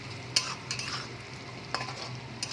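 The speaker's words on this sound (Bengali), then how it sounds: "টমেটোটা দিলাম, মানে একটা টমেটো কুচি করা রয়েছে।" Chopped tomato being stirred into softened onions in a pan for a fish gravy, steady low frying sizzle broken by a few sharp scrapes and taps of a spoon against the pan.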